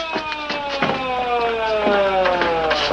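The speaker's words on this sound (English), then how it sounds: "The ambulance." An ambulance siren wails steadily at a police scene, its falling tones sweeping continuously over about three seconds with a few sharp knocks in the background; nobody speaks.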